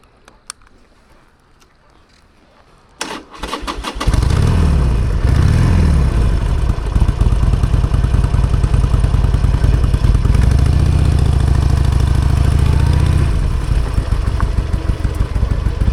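An old Harley-Davidson Sportster motorcycle on an autumn ride: after a quiet start and a short clatter, the engine starts and settles into a steady, loud, close rumble that holds for the rest of the clip.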